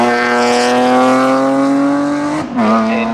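A BMW 3 Series Compact race car climbs a hill-climb course, its engine screaming at high revs with a strong harmonic howl, dipping briefly at a gear change before pulling hard again, loud and close.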